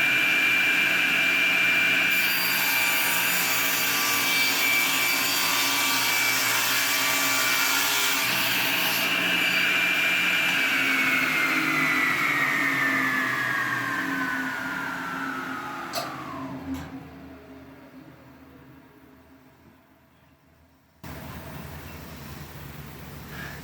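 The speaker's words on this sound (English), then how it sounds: "No blade break on this saw, so the spin down time is quite a bit" A table saw with no blade brake runs with a loud, steady whine that slowly drops in pitch as the blade spins down over several seconds, then fades to a low residual hum.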